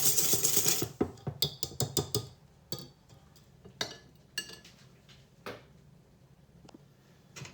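Eggs with extra yolk for canelé batter are whisked in a bowl, giving a quick burst of close metallic clinks that slows into scattered taps and clicks, then quiets.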